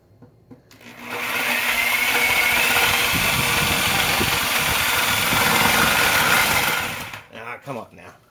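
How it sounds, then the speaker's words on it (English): A DeWalt DW304P reciprocating saw cuts through a heavy piece of Douglas fir lumber, a loud, steady buzzing drone running for about six seconds close by, then it stops with a few clunks of the wood. "here's the DeWalt DW304P, and on a pretty heavy piece of lumber here"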